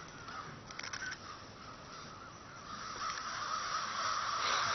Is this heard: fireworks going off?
no